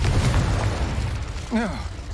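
A Confringo spell explosion in Hogwarts Legacy lands as a low rumbling burst in the first second, fading out before a short voice cuts in.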